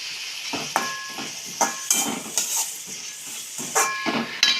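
Onions sautéing in a pan, a steady hiss of frying with bright crackling pops and bursts of sizzle recurring every half second or so, close and fairly loud with no talk.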